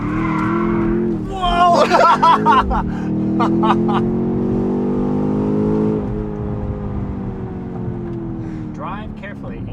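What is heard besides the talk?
BMW X5M brake boost launch with Valvetronic Designs exhaust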